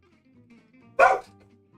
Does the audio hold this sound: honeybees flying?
no